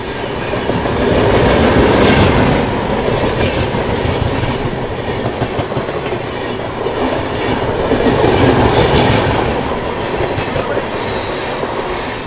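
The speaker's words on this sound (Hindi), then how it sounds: "Patna Jammu Tawi Archana superfast express" A Patna–Jammu Tawi Archana Superfast Express rolls along toward Varanasi Junction, its wheels keeping up a steady, loud clickety-clack over a continuous rumble, with faint squeals riding on top and no voices.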